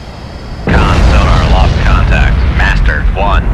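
Submarine missile launch in the Cold Waters video game, a sudden heavy booming rush that becomes a sustained roar, with chirping electronic tones and a voice speaking over it.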